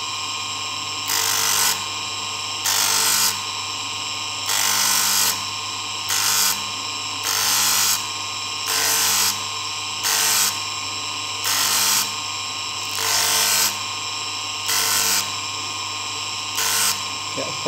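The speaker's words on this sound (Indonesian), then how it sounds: "Ini kita amplas. Permukaan yang sini kita amplas dulu." A brass ring sanded by hand with 150-grit sandpaper, rhythmic bursts of close, harsh scratchy rubbing that repeat every second or so over a constant background hum.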